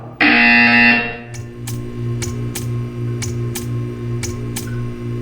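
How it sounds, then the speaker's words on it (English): A loud, harsh electronic buzzer in Portal 2 blares for about a second, then gives way to a steady hum with regular soft ticks. "When you hear the buzzer, stare at the art."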